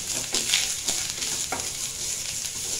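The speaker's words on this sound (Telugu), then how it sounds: "ఇది బాగా ఫ్రై చేసుకోవాలి." Chicken cutlet mixture with grated carrot and beans fries in a pan, a constant moderate sizzle broken by a few soft stirring knocks and scrapes, with no one speaking.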